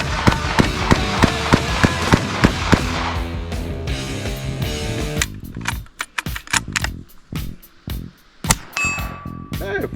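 Rapid, repeated sharp gunshots from an AR-15 rifle and shotguns ring out in a steady rhythm, then give way to scattered, irregular bangs and metallic clatter, loud and close.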